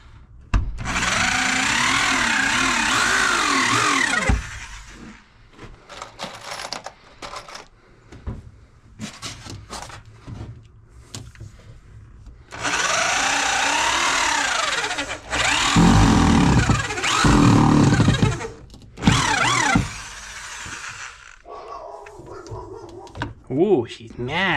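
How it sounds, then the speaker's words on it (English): A power drill bores into wood in a shed, sounding in a few long whirring bursts that rise and fall in pitch, with a person talking in the pauses between them. "Doesn't even feel like it's drilling into it."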